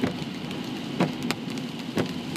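Steady rain falls on a road or car during a drive, a dense continuous hiss with a few sharp splashy bursts near and loud, no talking.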